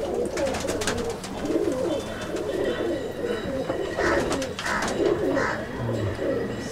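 Kasuri and Dabbwale pigeons coo in a steady, overlapping chorus, soft throaty calls repeating close by against a busy loft background.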